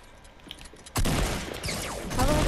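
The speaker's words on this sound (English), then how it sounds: "people are shooting at us" Gunfire erupts in a multiplayer survival shooter during a base raid, a sudden loud burst of rapid shots after a quieter moment, continuing as dense overlapping fire.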